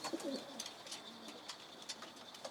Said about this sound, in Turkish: Kuş içeri girmiş.